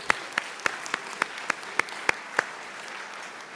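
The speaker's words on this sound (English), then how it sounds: "let's give her a round of applause" A conference audience at an Arabidopsis research awards session applauds, with a soft murmur of distant clapping underneath and about ten sharp, evenly spaced claps from one nearby person standing out before fading.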